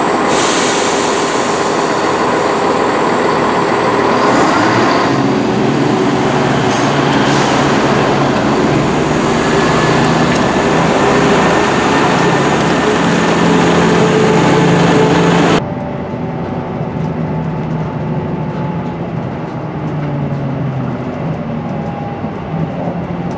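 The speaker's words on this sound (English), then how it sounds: "I'll be leaving Markinch on the 1456 ScotRail service and going straight to" Inside a ScotRail train travelling from Markinch to Edinburgh: a loud, constant rumble of wheels and carriage with faint rhythmic clatter and brief squeals, dropping to a quieter, duller roar partway through.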